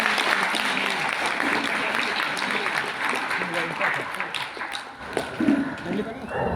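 Audience applause at a seminar event in Ranchi, a steady wash of clapping from a crowd in a hall that swells briefly near the end, with some talk mixed in.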